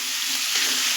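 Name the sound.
stirring sugar into daliya in a pan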